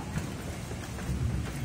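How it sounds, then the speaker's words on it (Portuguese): A thunderstorm on New Year's Day with steady heavy rain hissing outdoors and a low rumble of thunder underneath, continuous and fairly distant with no talk. "Tá trovejando, Daisy."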